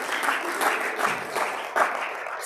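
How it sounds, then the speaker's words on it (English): Round of applause from a community gathering for its speakers, continuous crowd clapping with slight swells, moderately loud and close. "Let's give everybody a round of applause"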